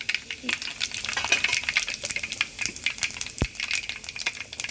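Mustard seeds, fenugreek and cumin sizzling in hot oil for a tempering, a close crackling fizz with irregular pops and stirring clatter throughout, alongside some quiet speech.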